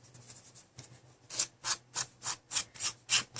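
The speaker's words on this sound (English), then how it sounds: "you can use sandpaper or an emery board or a plain nail file" Rhythmic back-and-forth rasping of an emery board filing the edges of paper, starting soft and irregular, then settling into about eight steady, close strokes.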